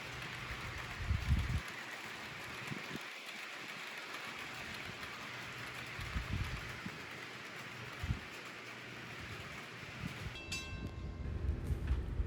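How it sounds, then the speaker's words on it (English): Freight train engine 400 rolls past heading toward Montauk Point on Long Island, a steady broad rumble and rushing noise with heavy low thumps, and a bright ringing tone emerging near the end. "here's engine 400 passing by, headed out to Montauk Point"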